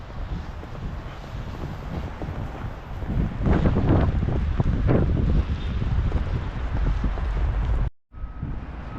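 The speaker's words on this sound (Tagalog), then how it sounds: "Mahangin din naman." Strong wind blows outdoors in snowy Canada, a loud, steady roar of gusts buffeting the microphone, with a brief dropout near the end.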